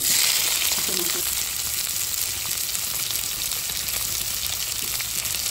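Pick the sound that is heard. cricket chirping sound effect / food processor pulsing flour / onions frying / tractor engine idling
onions frying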